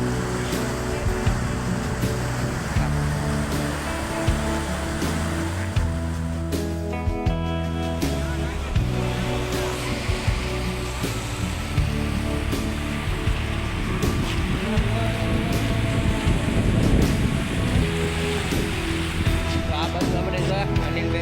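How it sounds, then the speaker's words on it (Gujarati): Water rushes and roars steadily nearby, a continuous heavy flow, while people talk over it throughout. "કેટલું બધું પાણી જાય છે."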